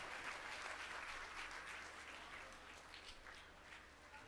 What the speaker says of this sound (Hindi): तालियों के महास्वर से हम इन मां का अभिनंदन करेंगे